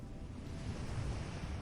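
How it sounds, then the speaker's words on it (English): Ocean surf rolls below seaside cliffs with wind blowing across them, a steady soft wash of waves and broad airy rushing, fairly faint and continuous. "The ocean continues softly below, wind moving gently across the cliffs behind you"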